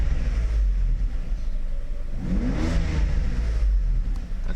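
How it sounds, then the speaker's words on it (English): A Mercedes SL600 with freshly repaired throttle bodies revs hard under acceleration, a loud, close engine roar rising in pitch over a steady low idle rumble, with no talking. "So first we start it up. Here's our acceleration, first start"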